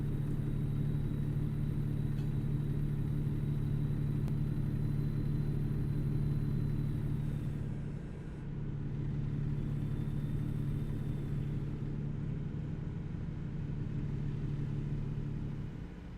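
A straight-piped truck engine in American Truck Simulator, a deep steady droning rumble with a low throbbing tone that dips briefly partway through before resuming its constant cruise, no voices.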